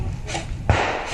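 A grenade goes off in a rocket-launch mode of a video game, a single sharp thump followed by a short burst of noise that fades quickly, alone and fairly close.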